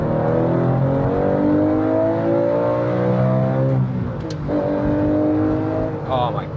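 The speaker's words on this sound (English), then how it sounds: "And this has the Metzger fucking legendary Le Mans motor in it." A 2004 Porsche GT3's Mezger engine revs up through rising pitches, high-strung, loud and close, dipping briefly before climbing again, with a short burst of talk near the end.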